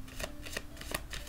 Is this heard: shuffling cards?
yes